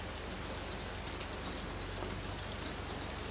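Steady rain pours down outdoors, a dense continuous hiss that fills the whole stretch with no voices.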